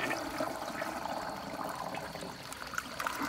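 A 1959 Nationaline Envoy 1.6-gallon toilet flushes during a soapy ball rinse test, a close, steady rush of water that keeps up for the whole stretch without easing.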